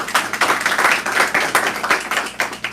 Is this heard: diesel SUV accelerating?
no